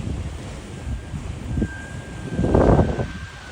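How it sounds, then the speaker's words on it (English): Ocean waves and wind on the shore at Ponta Delgada in the Azores: gusty wind buffets the microphone while surf rushes and swells, with one louder wash near the end. "we have not really high waves, look."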